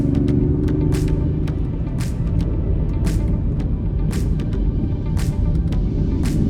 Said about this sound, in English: and then let's step on it. It's quite a decent sound you get there actually.